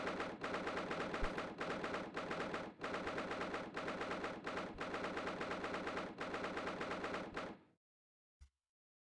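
Gunfire from The Great Ace Attorney video game: long, loud bursts of rapid automatic shots broken by brief pauses, ending abruptly in silence with one last isolated thump.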